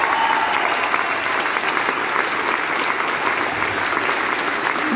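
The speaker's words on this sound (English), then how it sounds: "please put your hands together for Jack Hopper on lighting." Sustained applause from a large audience, a steady wash of clapping throughout without pause.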